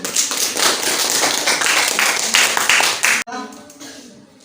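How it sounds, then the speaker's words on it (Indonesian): A classroom of students claps hands together in a lively burst of applause for about three seconds, then it stops abruptly and a voice is heard faintly. "Berikan tepuk tangan."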